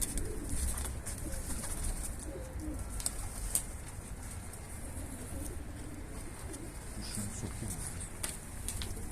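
Soft, low bird cooing repeats against a steady background hiss, fairly faint and close, with no talking.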